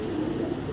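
A female racing pigeon, a 2024-ringed club bird, gives a brief, soft, low coo close by, a single short murmur with nothing else heard.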